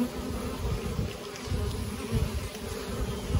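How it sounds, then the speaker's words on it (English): Dense, steady buzzing of many honeybees working the hive frames during a fall varroa treatment, a continuous swarm-like hum with no voices. "Bees are working all of the frames."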